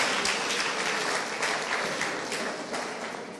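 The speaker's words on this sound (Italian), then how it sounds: "anche per voi un applauso della nostra platea" An audience at a community sports celebration claps in a sustained burst of applause, steady and full at first and slowly tapering off.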